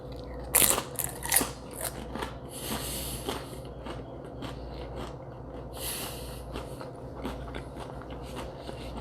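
Close-up bites crunch into tortilla chips loaded with smoked buffalo chicken dip and jalapeno, a few sharp crunches followed by softer, steady chewing with occasional nasal breaths.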